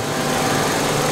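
A 2003 Honda Element with about 200,000 miles, fresh oil and Lucas additive, idling at a steady, even hum with a light mechanical tick, close and continuous with no talk.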